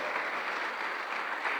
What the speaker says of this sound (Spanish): Dele fuerte las palmas al bendito Rey